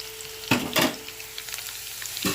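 Vegetable pieces fry in hot oil with curry leaves and masala for a Sunday special dish, a soft steady sizzle with a few close stirring scrapes and clinks of a spoon against the pan.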